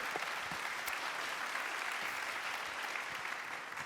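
Audience applause at a water and environment professionals' congress session, a steady, even patter of many hands clapping, moderately distant and fairly quiet, with no voices on top.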